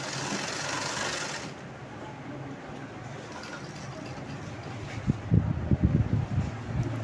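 A sewing machine stitches a sleeve design, its steady whirring running loud at first, then settling into a lower hum with a few short bursts of clatter near the end.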